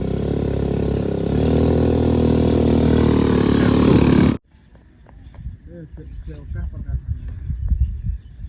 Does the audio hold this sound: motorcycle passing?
yes